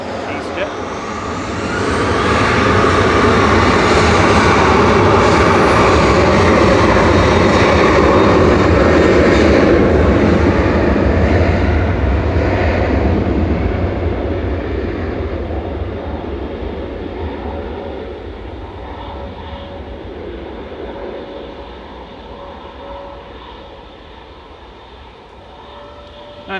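A Ryanair airliner bound for Dublin roars past at Manchester Airport, its jet engines swelling to a loud, broad rumble and then slowly fading into the distance over nearly half a minute.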